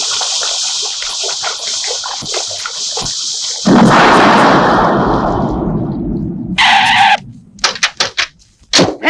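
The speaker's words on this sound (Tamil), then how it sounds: "என்னடா வெடி சத்தம் கேக்குது?" Heavy booming blasts from a film scene erupt, a sustained rumbling explosion followed by a rapid series of sharp bangs, loud and close.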